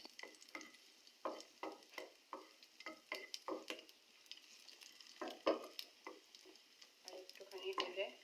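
Peanuts fry in a pan until brown, heard as quiet sizzling broken by frequent stirring scrapes and clicks in an uneven rhythm, faint and close.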